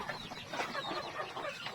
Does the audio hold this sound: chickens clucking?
yes